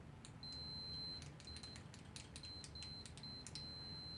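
A vintage Hewlett Packard E2373A multimeter sounds its continuity tester as a series of short, thin electronic beeps, each one faint and broken by pauses, over low background hum.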